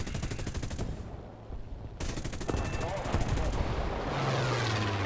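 Rapid bursts of aircraft machine-gun fire from a J21A-1 fighter in the War Thunder combat flight game, loud and rattling, with a brief pause between volleys.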